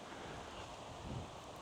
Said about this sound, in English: The wind is going to be a problem today